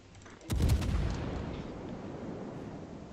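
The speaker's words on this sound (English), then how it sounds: "I will keep firing on him as long as he does this" Heavy naval gun salvo from the cruiser Saint Louis in World of Warships, a loud booming blast with several sharp cracks at once, then a long rumbling roar that slowly fades.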